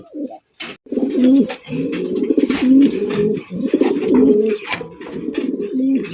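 Racer pigeons in a loft coo repeatedly, loud and close, their throaty rolling calls overlapping in a steady rhythm with a few brief rustles between, no talk.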